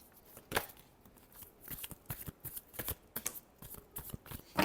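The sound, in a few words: shuffling tarot cards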